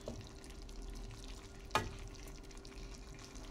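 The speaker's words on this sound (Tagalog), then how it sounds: "Saka natin siya haluin. Ayan, ihahalo na natin." Mixed vegetables with mushroom sizzle steadily in a frying pan while being stirred, with a soft continuous hiss, a low hum underneath and one sharp utensil clack partway through.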